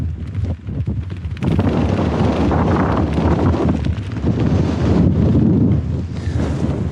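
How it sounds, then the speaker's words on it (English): Strong, relentless wind buffeting a microphone on a fog-covered Yorkshire Three Peaks hilltop, a constant loud roar with gusty surges throughout and no voices. "The wind is relentless."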